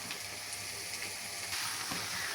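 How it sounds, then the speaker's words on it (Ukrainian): Constant crackling sizzle of eggplant frying in a hot pan, a steady hiss with occasional louder pops, no talking. "Поки баклажани обсмажуються, помідори також нарізаю кубиком."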